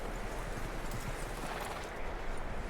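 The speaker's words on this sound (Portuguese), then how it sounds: "That looks like a decent horse." Horse hooves clop in Red Dead Redemption 2, a steady rhythmic trot close by, alone without talk; no clear whinny stands out.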